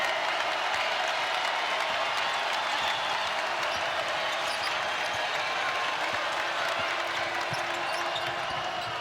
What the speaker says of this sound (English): And the crowd will get a little louder